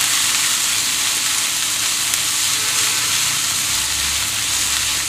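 Finely chopped onions and crushed green chillies fry in a pan with a continuous close, loud sizzle and a faint stirring texture underneath, with no talking.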